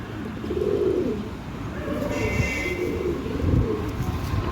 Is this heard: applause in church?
no